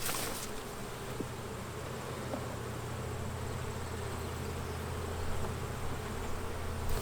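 A steady, dense buzzing of many honey bees swarming close by around a hive, continuous and even throughout with no talking.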